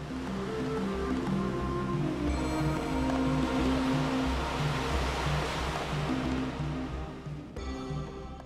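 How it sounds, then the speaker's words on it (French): Ocean surf rolling and breaking at the Saint-Leu left-hand reef wave on Réunion, a continuous broad wash of water that swells and subsides over several seconds, with faint tonal background sounds. "Une vague magnifique, une des plus belles gauches du monde, une vague que l'on descend de droite à gauche."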